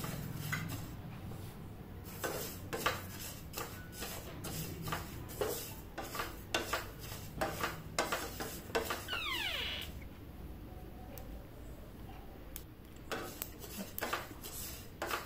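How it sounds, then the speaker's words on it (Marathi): Fennel, cumin and sesame seeds dry-roasting in a pan, with a steady run of scraping, stirring and light clinks of a spoon against the pan, close and moderately loud, with no talking. "आता आपल्याला सगळं भाजून घ्यायचं व्यवस्थित।"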